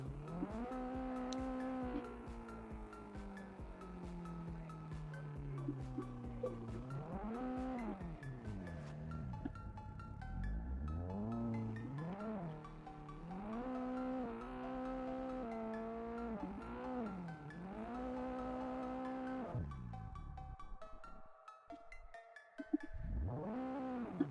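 A car engine revs up and down repeatedly in sweeping bursts while drifting, the pitch rising and falling, with a brief rougher patch near the end.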